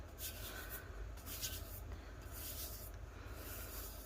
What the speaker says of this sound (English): But I'm going to rub it with my clean hand.